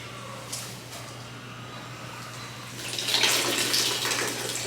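Water runs steadily, then grows louder and splashier partway through as it pours, over a low constant hum.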